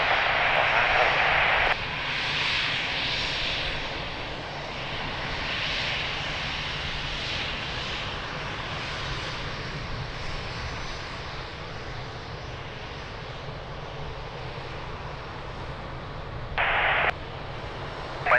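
Airliner rolling for takeoff on runway 02 at Lisbon Airport, a steady broad engine roar held close and loud throughout, with brief radio-like bursts near the start and end.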